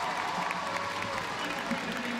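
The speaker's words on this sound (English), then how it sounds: "The crowd at the London Aquatic Center urging Petey home" Crowd at the London Aquatic Centre during an International Swimming League semi-final swim race, a steady wash of applause and cheering filling the whole clip, with commentary voices blended into the roar.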